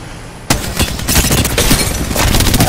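A frag grenade blast and a burst of gunfire in the Apex Legends battle royale game, a sudden loud onset followed by sustained, dense rattling shots and booms that stay near and loud to the end.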